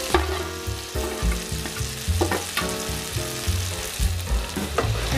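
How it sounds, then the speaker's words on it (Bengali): Fried okra goes into hot spiced oil for a methi bhindi aloo sabzi, a close, steady sizzle broken by repeated stirring knocks and scrapes against the pan. "এবার আমি ফ্রাই ভেন্ডিগুলি দিয়ে দেবো"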